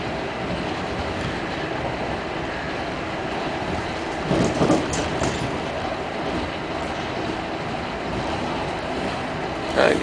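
An ŁKA regional train in Poland rumbles steadily along the rails, passing beneath the Central Rail Line, with a dense, continuous roar and occasional brief clanks and squeals rising above it.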